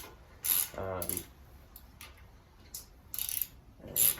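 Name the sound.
ratchet removing brake calipers from a Harley Davidson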